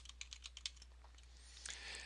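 Quiet keystrokes tapping on a computer keyboard while text is entered in an office program, a quick irregular run of light clicks with a brief flurry near the end.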